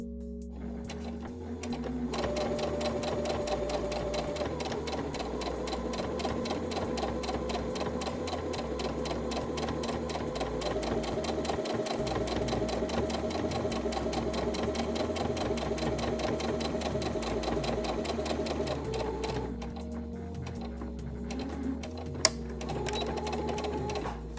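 A sewing machine runs steadily for about twenty seconds, stitching along the curved edge of a fabric face mask lining. Its rapid, even mechanical hum carries on alone with no talk, then stops briefly near the end.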